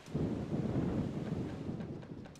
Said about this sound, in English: It's starting to storm here in the game.